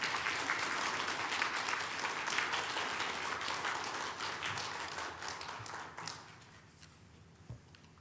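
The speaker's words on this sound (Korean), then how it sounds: "우리 목사님 나오실 때 박수로 맞이해 주시길 바랍니다." A congregation applauds to welcome a visiting pastor at a New Year blessing dawn prayer service in a church, steady dense clapping filling the room before tapering off near the end.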